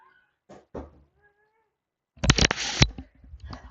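A cat gives a short meow, followed by a louder, rougher burst of thumping and a yowling cry, all close and within a few seconds, with quiet gaps between.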